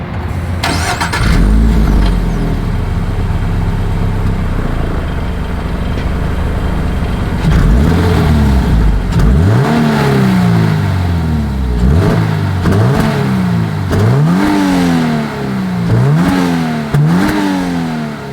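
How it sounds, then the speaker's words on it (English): The exhaust of a 2025 Toyota GR86 starts up and settles into idle, then several sharp revs climb and fall one after another, loud and close, with no talk. "As always, here is that exhaust clip."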